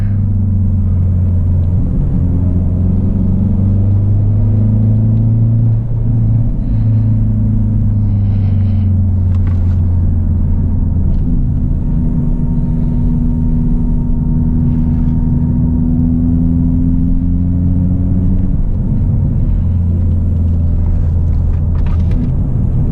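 Hyundai Veloster N car driving laps on the Charlotte Motor Speedway road course, a loud, continuous engine drone heard from inside the car, with pitch slowly rising and falling through long pulls and a brief dip near the end.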